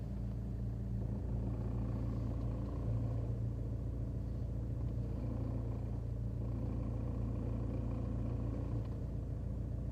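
A Vauxhall Insignia engine idles with a worn clutch, giving a steady, loud low rumble and drone that runs unbroken for the whole stretch, with no talking.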